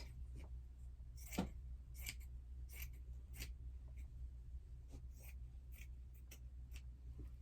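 Scissors snipping through fabric for a bunny-print Easter table runner, a series of soft, quiet crisp clicks spaced irregularly over a low steady background hum.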